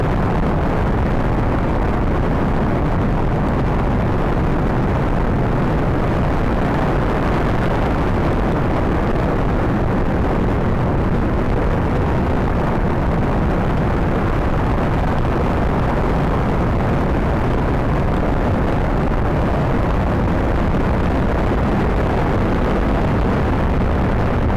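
Crewed rocket with side boosters launching in a video game, a continuous deep roaring rumble that stays dense and steady throughout, loud and unbroken, with no talk.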